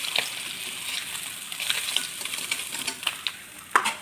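Fish sizzling steadily in hot oil in a home kitchen, with scattered sharp clinks and scraping as the pieces are stirred and lifted out, one louder knock near the end.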